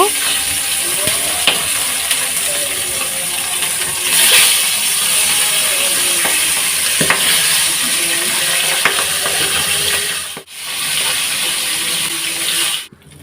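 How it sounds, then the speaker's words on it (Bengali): Rohu fish heads frying lightly in oil, a steady close sizzle with scraping stirs and occasional clicks of a utensil, continuous at moderate loudness with brief dips. "এখন আমি রুই মাছের মাথাগুলো একটু হালকা ভেজে নেব"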